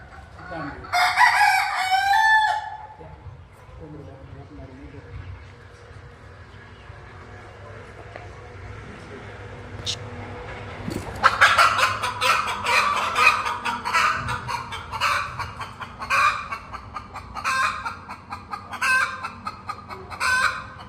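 A free-range village rooster crows loudly at the start, then after a quiet spell hens cluck and chatter continuously in a busy, nearby flock.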